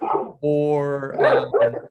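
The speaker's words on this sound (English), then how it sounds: "That's a dog." An Australian Shepherd barks in a drawn-out, whining yelp amid people talking, the dog sound sitting between and under the voices close by.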